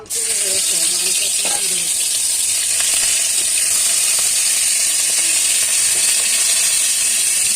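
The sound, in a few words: chicken leg piece frying in hot oil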